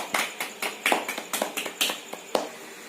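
Classroom of students clapping for a classmate, a short burst of about a dozen sharp, close hand claps in an irregular rhythm, slowing and thinning toward the end.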